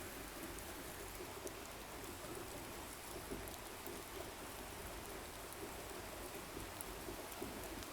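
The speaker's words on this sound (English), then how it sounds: "I just got the tanks set up and plumbed in, and it began to rain." Steady rain falls outdoors around newly plumbed rainwater collection tanks with a first-flush diverter, a dense, even patter of drops that holds at a constant level throughout, with no voices.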